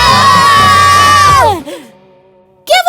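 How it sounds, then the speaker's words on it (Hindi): A loud, prolonged high-pitched scream that falls away after about a second and a half, followed by a brief shout. "क्या वो चिल्लाने की आवाज तुम्हारी थी?"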